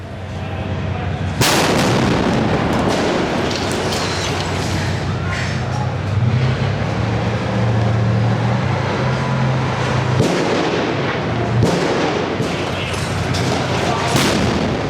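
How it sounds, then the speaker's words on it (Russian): A tank cannon fires at buildings during urban combat in Jobar, Syria, with loud heavy blasts cracking out over constant rumbling battle noise and scattered small-arms fire. "мой коллега снимает, как танк бьет по зданиям справа от площади"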